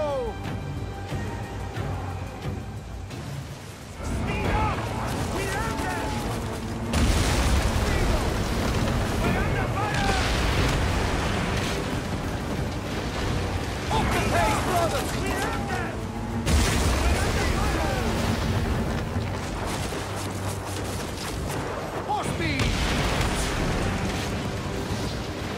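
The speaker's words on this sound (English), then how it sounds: "We're under fire!" Cannon fire and booming hits strike a ship during a naval battle in Assassin's Creed, with heavy rumbling blasts, rushing wind and water, and shouted voices over the din.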